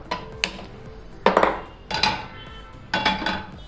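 A pan being set on the stove, a series of sharp metallic clanks and knocks at irregular intervals, close and fairly loud with quiet gaps between.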